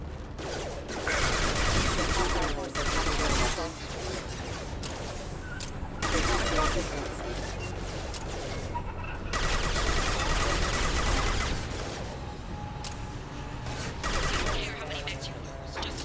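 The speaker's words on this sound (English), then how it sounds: "Taking heavy fire!" Heavy gunfire in a combat game, dense bursts of shots sustained across the whole stretch, loud and close with rising and falling waves of intensity, voices occasionally mixed in.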